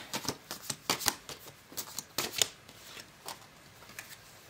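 Tarot cards are shuffled by hand in quick, crisp riffles, a burst of papery snaps and flutters close up, with no speech.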